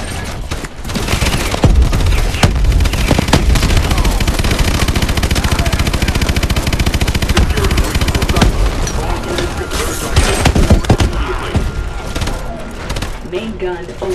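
Rapid sustained bursts of heavy automatic fire from a mech's main gun in the Call of Duty: Advanced Warfare Terminus boss fight, loud and continuous with booming impacts, while a synthetic voice announces system status.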